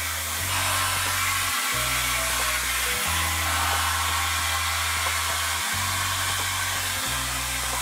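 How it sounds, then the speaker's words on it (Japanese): A hair dryer blows steadily on freshly dyed hair at close range, a loud continuous whooshing airflow with its motor hum briefly cutting and restarting several times as it is moved or switched. "ドライヤーしますね。"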